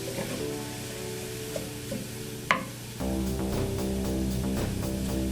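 Ground pork with mushrooms and onions frying in a pan, a steady sizzle with occasional stirring taps and one sharp clink, the sizzle growing louder and fuller partway through.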